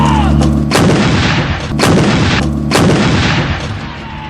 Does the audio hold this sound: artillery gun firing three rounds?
yes